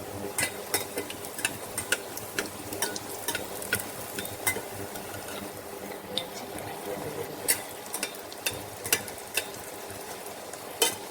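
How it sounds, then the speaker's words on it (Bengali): Egg fuchka deep-frying in hot oil over medium heat gives a steady sizzle and bubbling, punctuated by frequent sharp clinks and stirring taps from a utensil in the pan. "মানে মিডিয়াম আঁচে আমি ভাজবো এটাকে"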